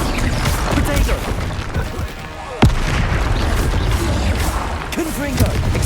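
A Confringo spell explosion in the video game Hogwarts Legacy, a sharp blast standing out amid busy combat rumble and spell effects, with a voice speaking over the action.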